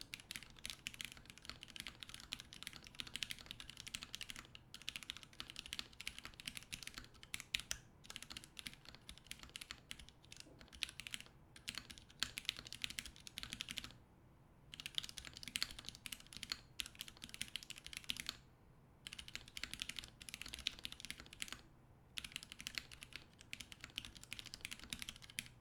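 Rapid typing on a Daisy HHKB keyboard runs for about twenty-five seconds, a dense stream of close, soft key clacks broken by a few short pauses, with no talking.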